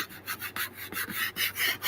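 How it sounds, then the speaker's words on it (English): Steady back-and-forth rubbing of a cloth wiping a screen, a close rasping scrub repeating in regular strokes of about a quarter second, loud enough to sound like sawing or sanding. "I was cleaning my screen up. I didn't know that was making noise."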